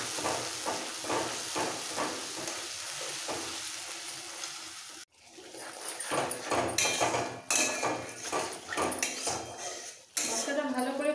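Masala for a South Indian sambar is stirred and sautéed in a pan, with rhythmic spatula scrapes and clatter over a low sizzle, broken by a brief pause and some handling knocks.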